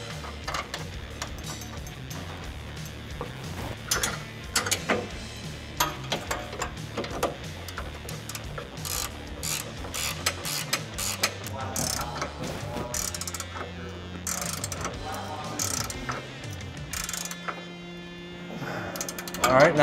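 A ratchet clicks in short irregular bursts while a nut is started and tightened on a factory lower control arm bolt of a 2005-2010 Ford Mustang, with metallic tool handling and clatter between the bursts.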